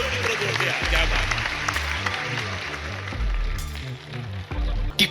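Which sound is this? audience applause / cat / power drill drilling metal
audience applause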